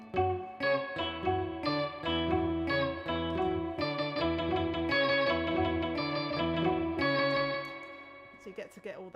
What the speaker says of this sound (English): You've got like a Pog pedal here.